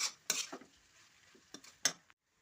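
Poha being stirred in a pan in a home kitchen while making Nagpur-style tarri poha: a few quiet, sharp scraping and clinking strokes of a spoon against the pan, spaced irregularly, with no talking.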